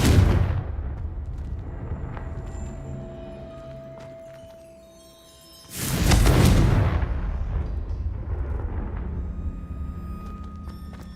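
Confringo blasting spell explosions in the Hogwarts Legacy video game: a loud booming blast at the start, a quieter rumbling lull, then a second heavy explosion with a rushing burst that trails into sustained rumble.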